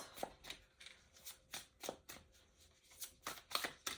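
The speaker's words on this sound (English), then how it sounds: "Give it a couple more shuffles." A deck of cards is shuffled again and again, each pass a soft papery riffle burst in a steady, repeating rhythm, quiet and close.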